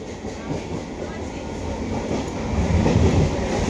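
Constant low rumble and rattling of a moving train heard from inside a carriage, swelling slightly louder toward the end.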